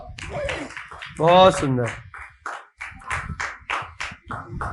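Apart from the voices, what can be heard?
children clapping for a guest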